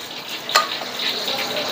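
Hong Kong kuey teow noodles with egg and cornflour being stir-fried in a wok, a steady sizzle with a sharp scrape of stirring near the middle.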